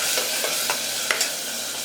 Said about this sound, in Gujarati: આ રેસીપી હલાવી લઈએ ગેસની આંચ હવે આપણે ફૂલ કરીશું